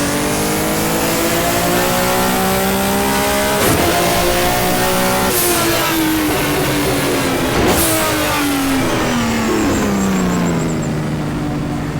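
A BMW M1 race car engine in the rFactor racing game revs hard through the gears, loud and close, its pitch climbing and dropping with sharp upshifts and no talking.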